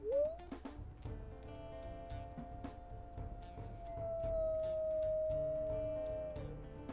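A wolf pup in the game WolfQuest lets out a squeaky, high-pitched howl: a quick rising yelp that settles into one long thin wavering tone lasting several seconds, over soft game background sound.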